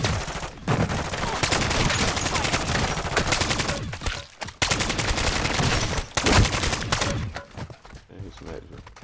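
Sustained automatic gunfire in Call of Duty: Modern Warfare III, loud close bursts of rapid shots broken by brief gaps near four-and-a-half and six seconds, tapering toward the end with voices talking over it.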